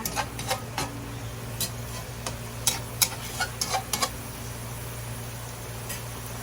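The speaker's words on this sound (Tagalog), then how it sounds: "Ito na po, kumulo na po ang ating repolyo." Cabbage boiling in a pot of water for a simple Filipino ulam gives a steady low bubbling rumble with scattered light ticks and pops throughout, and no one speaks.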